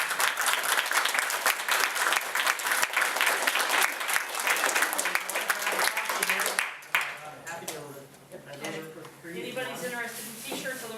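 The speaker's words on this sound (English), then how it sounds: "And please, one more big round of applause." An audience at a Darwin Day lecture claps in a loud, crackling round of applause that stops partway through, after which someone talks.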